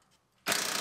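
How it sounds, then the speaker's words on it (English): Ratchet driving bolts on a rolled-over Chevrolet Silverado under repair, heard as a sudden burst of close, loud clicking that begins midway after near silence. "And bolt the bottom on each side."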